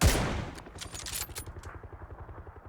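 Rapid automatic gunfire from the shooter PUBG: a loud opening burst followed by a steady, fast rattle of repeated shots that fades slightly while continuing, with no talking.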